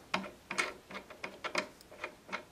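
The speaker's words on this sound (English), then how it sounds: "So basically, you take the knob off" A knob is unscrewed from a bolt on a spinning-wheel bracket, giving a series of faint, irregular small clicks and ratcheting ticks close by.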